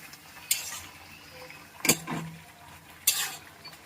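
Fried bitter gourd being stirred into boiled potatoes in a pan, with three distinct scrapes and clinks of a spoon against the pan, spaced apart over a soft background sizzle.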